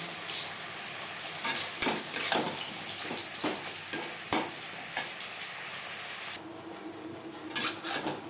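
Onion and capsicum fry in a pan for chilli chicken, with a steady sizzle broken by irregular scraping stir strokes, close and moderately loud, with no voices.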